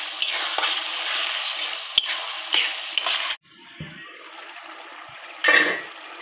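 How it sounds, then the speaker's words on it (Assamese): Chicken pieces frying with spices in a pan, a close, even sizzle broken by spoon clinks and scrapes against the pan, then a quieter, softer bubbling after a sudden drop, followed by another stirring burst. "মাংসখিনি অলপ ভাজি ল'ম"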